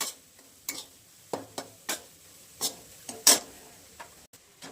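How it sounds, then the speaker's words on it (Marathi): Raw grated coconut being stirred and sautéed in a pan, with a string of sharp, separate scrapes and clinks from the spoon against the pan and a soft sizzle underneath, close and fairly quiet. "आता खोबरं कच्चं आहे ना, तर आपण मस्त परतून घेणार आहे."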